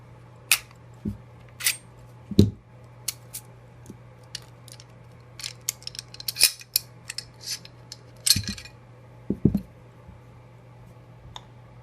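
Beretta 92FS pistol being field-stripped by hand, with a series of sharp metallic clicks, slides and snaps of parts coming apart, close and fairly quiet, spread irregularly over the span with no talk.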